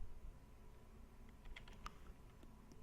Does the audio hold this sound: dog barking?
no